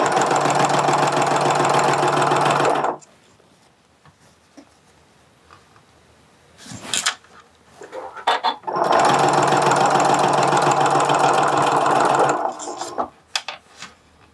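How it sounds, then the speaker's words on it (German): Home sewing machine running back over existing stitches to lock a seam on a handmade backpack, in two loud, steady bursts of rapid mechanical stitching a few seconds long, separated by a quieter pause with light handling noises. "Ich bin jetzt noch mal ein paar Stiche über das gefahren, was ich eh schon genäht habe, damit es gut verriegelt und man nichts aufgeht."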